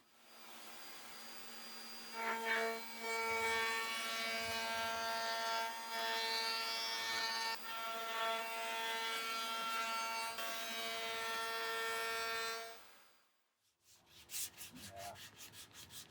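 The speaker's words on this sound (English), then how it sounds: "So you got the router attached to the bottom of that." A wood router cuts wood for a cigar box guitar build: a loud, steady power tool whine with a high buzzing edge runs for about twelve seconds, then cuts off, followed by a few scraping sounds.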